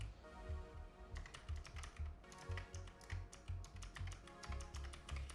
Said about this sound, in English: I'm literally just spamming random numbers on the keyboard.